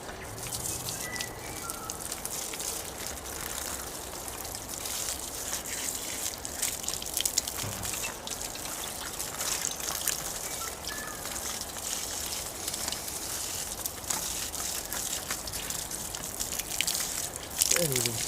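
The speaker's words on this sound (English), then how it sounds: "I'll go and rinse this off with clean water" A rusty part, cleaned by electrolysis, rinsed off with clean water: a continuous gushing, splashing stream of water runs steadily for the whole stretch at moderate loudness, with occasional drips and knocks.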